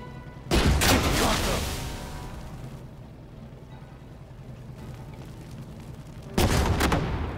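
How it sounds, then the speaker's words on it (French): Heavy panzer cannon fire at an M3 tank in a World War II strategy video game, two loud booming shots several seconds apart, each rolling out into a long decaying rumble. "Vas-y, tire dans ce M3."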